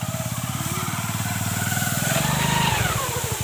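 A motorcycle engine rigged to thresh paddy runs with a steady, close, rhythmic thrum that swells slightly midway and then settles.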